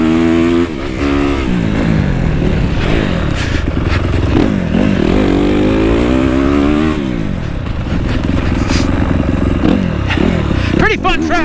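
A motocross dirt bike on a rough off-road track revs and shifts through repeated throttle sweeps, close and loud, with clattering and scraping as it rides through the terrain.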